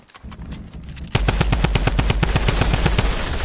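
Loud, rapid automatic gunfire from the Fortnite video game starts abruptly after a quiet moment and carries on as a steady, close burst of evenly spaced shots.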